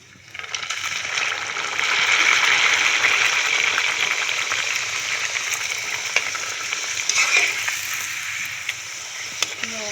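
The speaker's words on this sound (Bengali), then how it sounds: "কড়াইতে পরিমাণ মতো তেল দিয়ে দিয়েছি, রিফাইন তেল। আমি এবার লুচিগুলো একে একে দিয়ে দেবো" Luchi, puffed flatbread, frying in refined oil in a kadai, a steady close hiss of sizzling that swells and holds for the whole stretch, with occasional light clicks and stirring.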